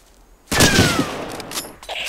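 Burst of gunfire in the WWII shooter War of Infamy: Eastern Front, starting abruptly and loud, then tailing into a dense rattle of shots lasting a second or two.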